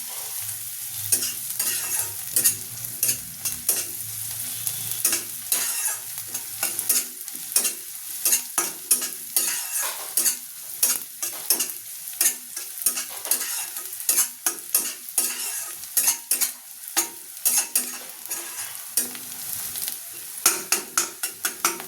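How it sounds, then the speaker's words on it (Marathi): Onions being stir-fried in a pan for a methi-matar vegetable dish, cooked until reddish: a steady sizzle with frequent scraping, clattering stirs of a utensil against the pan, close and continuous with no talk. "हे बघा अशा पद्धतीत हा कांदा पण परतवून घ्यायचा आहे"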